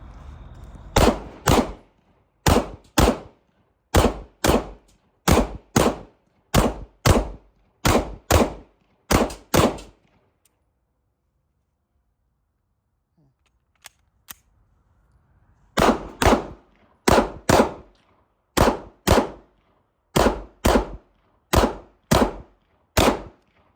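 A Smith & Wesson M&P 2.0 pistol fires during a 1,000-round burndown test: sharp, loud shots in quick strings of four or five, a pause of several seconds, then more rapid strings, with no talking.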